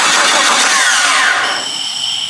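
Rebuilt car engine, built up from a bare block with cheap parts, cranking loudly at close range with a steady whirring starter, then the sound drops and settles into a thinner whine without catching.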